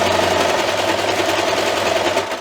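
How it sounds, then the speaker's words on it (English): A sewing machine runs a steady, continuous stitch across pie-shaped fabric bunting, humming close and fairly loud with a rapid even rhythm from start to finish. "now I'm putting my pumpkin pie, and I'm just stitching across it."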